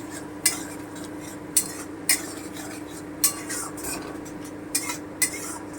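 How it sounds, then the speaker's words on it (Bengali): Ginger paste and coriander powder are stirred in a pan with a metal utensil, sharp scraping clinks recurring every second or so over a steady low background hum, with no voice. "তারপরে আমি আদা বাটাটা দিয়ে দিচ্ছি ধনে গুঁড়োটা দিয়ে দিলাম আমি একটু নেড়ে নিচ্ছি"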